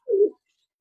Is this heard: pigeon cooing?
yes